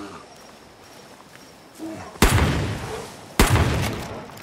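Two loud, heavy blasts from a big gun in the video game Far Cry New Dawn, about a second apart, each trailing off in a rumbling echo over a quiet background.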